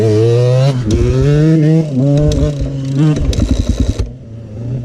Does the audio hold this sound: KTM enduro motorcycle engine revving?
yes